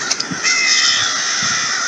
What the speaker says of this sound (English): Wow, we have a lot of crows here. Crows are congregating